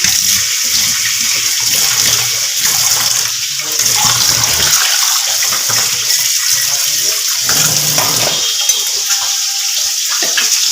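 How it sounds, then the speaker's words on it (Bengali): Water from a kitchen tap gushes steadily while a bowl is rinsed under it, loud and close, with the stream shifting slightly as the bowl moves, no voices. "বাটিটাকে একটু ধুয়ে নিই"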